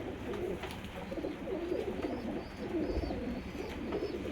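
Teddy pigeons coo softly and repeatedly, their low throaty calls layered close together over a steady background hum, with no talk.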